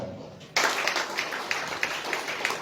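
A church congregation at a Sunday service claps together after a quiet opening moment, producing dense applause with rhythmic accents and voices mixed in.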